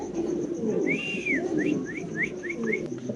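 A white Spanish pigeon coos in a low, continuous murmur close by, while several short, rising whistled bird notes sound over it.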